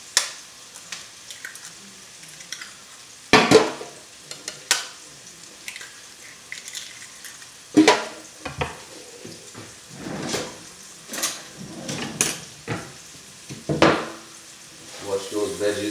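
Chopped vegetables sauté in a pan for an omelette, giving a soft, steady sizzle broken by sharp clinks and scrapes of a utensil stirring and tapping the pan at irregular intervals.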